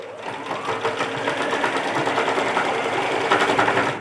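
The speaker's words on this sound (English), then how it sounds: "and just stitch right over it, right there" A sewing machine stitches across fabric pieces from a pillow sham, running with a close, steady rapid whirring chatter for about four seconds without pause.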